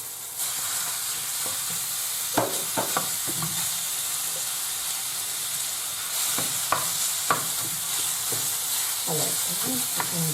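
Ground meat sizzles loudly in a pan with onions for lasagna, a constant bright frying hiss broken by the scrape and clack of a spoon stirring, with no talking.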